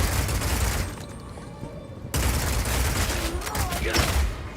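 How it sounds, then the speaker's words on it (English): Crossbow fire in the action RPG Path of Exile 2, a dense barrage of loud, rapid shots and booming impacts layered with game effects, continuous throughout with a brief break midway. "In Path of Exile 2, we have crossbows that work like sniper rifles, shotguns, and assault rifles."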